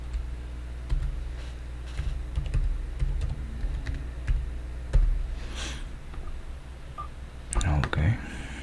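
Keys tapped on a computer keyboard to enter a password during a Docker Hub login, scattered close clicks through the clip and a denser flurry near the end.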